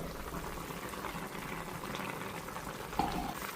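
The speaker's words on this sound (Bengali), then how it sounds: "অনেকক্ষণ হলো ফুলকপির তরকারি রান্না হচ্ছে" Cauliflower curry simmers in a pot on the stove, giving a steady, close bubbling and gentle sizzle with a soft clink near the end.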